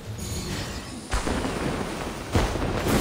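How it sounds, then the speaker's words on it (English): Fireworks bursting in the video game Genshin Impact during a festival night show, two sharp booms rising out of a steady crackling, rumbling wash of game sound. "so you can actually enjoy the fireworks"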